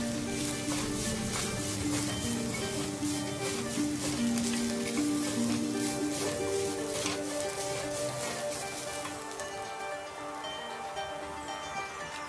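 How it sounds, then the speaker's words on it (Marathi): Coconut and red chili pieces sauté in a pan for spicy coconut rice, giving a steady, close sizzle that holds evenly throughout with faint background tones. "आता मी नारळाबरोबर लाल मिरच्यांचे तुकडेही घालते आहे, ते पण चांगले परतायचे आहे."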